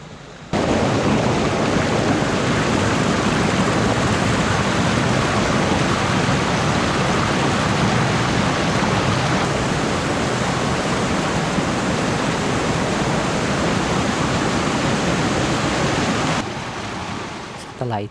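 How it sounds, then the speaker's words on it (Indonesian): A hot spring river rushes steadily along the Mount Gede hiking trail, a loud continuous roar of flowing water that holds for the whole stretch before easing slightly at the end. "kita kembali menemui sebuah objek alam, yaitu sebuah sungai air panas"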